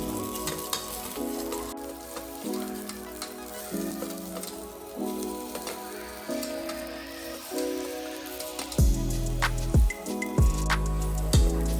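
Ginger garlic paste frying in a pan, a continuous close sizzle and crackle with stirring scrapes, under a repeating musical backing that swells toward the end, no talking.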